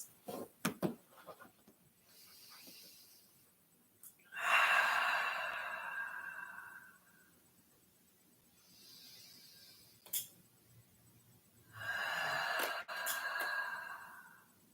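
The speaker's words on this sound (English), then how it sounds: "As you breathe in, fill up your whole belly with air. And then as you exhale," Deep, slow yoga breaths, inhaling and then exhaling, come close to the mic as two long airy swells with quiet pauses between them. A few sharp clicks and soft short breaths come first.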